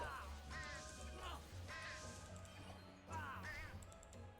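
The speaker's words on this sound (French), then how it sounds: "Il reste 2 corbeaux et Horace." Crows caw in the dungeon of the online game Dofus, three hoarse, raspy calls spaced about a second apart, fairly close, over a low steady game backdrop without speech.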